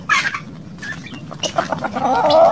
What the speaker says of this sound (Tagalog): Yan guys, yung mga Rhode Island natin.